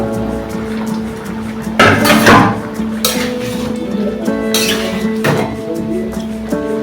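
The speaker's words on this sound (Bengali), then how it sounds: "এবার এটাকে আমি ঢাকনা দিয়ে রাখবো" A metal lid is set onto and lifted off a pot of chicken and potato biryani gravy, giving a few loud clanking clinks with ringing metallic tails, near and clear over a quiet kitchen hum.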